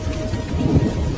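A cartoon thunderstorm sound effect plays in a Bengali ghost story scene: a low thunder rumble under steady heavy rain, loud and brief.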